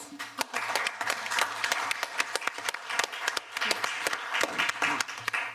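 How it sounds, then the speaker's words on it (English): Audience applause at an education prize award ceremony, steady dense clapping from a crowd in a hall with sharper individual claps standing out, sustained for several seconds. "one big hand of applause"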